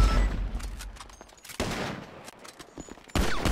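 Gunfire in a police roleplay video game: a few sharp, loud bursts of shots crack out, with quieter rattling between them and no speech.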